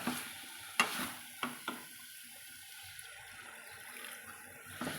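Water splashes into a hot pan of frying masala for a vegetarian raw banana kola urundai kuzhambu, followed by soft sizzling, bubbling and a few clinks of stirring, close by.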